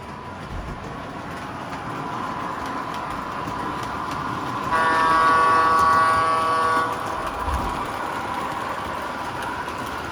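A model train engine rumbles and clatters steadily at moderate loudness, with a brief horn toot rising midway before fading back into the running noise.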